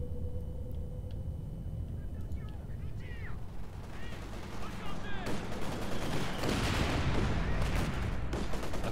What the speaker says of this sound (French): il y a le mortier qui tire dans le tas